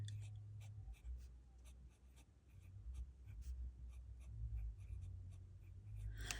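A medium-nib fountain pen writing with ink on paper, a faint continuous scratching with short strokes and pauses, close and quiet, no talking.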